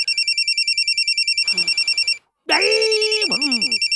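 A telephone rings in a repeated electronic trill for about two seconds, cuts out briefly, then resumes alongside a short burst of other sound, close and clear.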